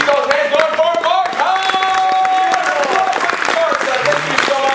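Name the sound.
audience applause for a performer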